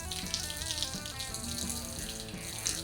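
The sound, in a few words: water rinsing soap out of a car wash brush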